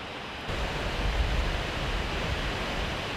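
Biryong Waterfall on Baekdu Mountain pouring its water powerfully in September, a broad steady roar of falling water that swells in abruptly after a quieter first half-second and then holds constant.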